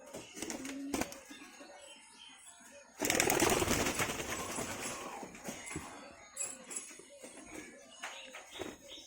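Pigeons are let out of their coops at a house, with scattered coos, flutters and clinks at first, then a sudden loud rush of wing flapping that slowly fades into softer movement and calls.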